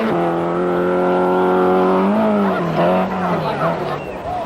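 A Lancia rally car racing on a stage of the 1000 Lakes Rally in Finland, its engine loud and close with a sustained high whine that shifts pitch as it revs, then fades slightly near the end.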